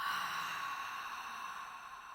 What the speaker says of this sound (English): Inhale and exhale the air out.